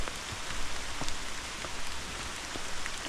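Steady rain patters on the ground and surfaces along the Appalachian Trail at Gathland State Park, an even close hiss of drops with no voices.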